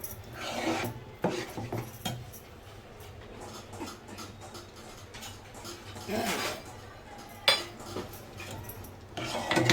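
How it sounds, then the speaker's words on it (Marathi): Masala being stirred and sautéed in a pan for chole, giving intermittent scraping and rubbing strokes of a spoon against metal, fairly quiet, with a few sharper knocks and a voice speaking at times. "हे व्यवस्थित मसाला आपण परतून घ्यायचा आहे."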